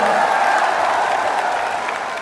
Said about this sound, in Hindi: दोनों हाथ उठा के ताली बजा के स्वागत करें नगीना के लोगों का।